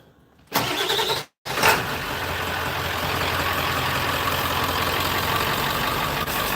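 A pickup truck engine cranks briefly, cuts out, then catches and roars to life, settling into a loud, steady rumble close by.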